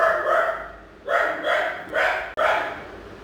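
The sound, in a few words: dogs barking in the background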